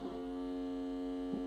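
A PERSUPER digital timer's vibration alert drones as a steady, close buzzing hum that holds evenly throughout, with a soft rattle at the start and again near the end.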